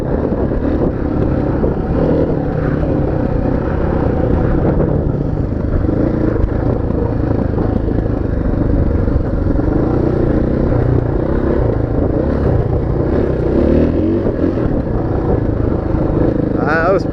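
A motorcycle engine drones loud and steady throughout a fast trail ride at Blair, close-up with wind buffeting, and a brief higher rising rev near the end.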